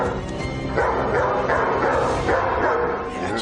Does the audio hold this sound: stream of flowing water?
no